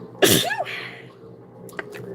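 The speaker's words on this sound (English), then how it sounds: "That was one of those sneezes where I think I could feel my eyeballs actually leave my body." A single sharp sneeze bursts out close to the microphone, followed by a short quiet breath and faint room noise.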